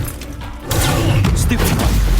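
A fire spell cast in Hogwarts Legacy erupts as a sudden heavy whoosh and booming burst about halfway through, then roars on loudly and densely after a quieter lead-in.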